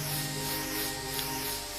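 Virtual spray paint hissing onto a figurine in the Demeo VR game, a steady airy spray sound lasting a couple of seconds, close and even, with no talk.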